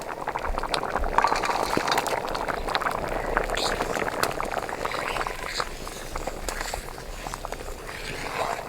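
A pot of chana dal boiling on the stove gives a steady, close bubbling and popping that stays dense and even throughout.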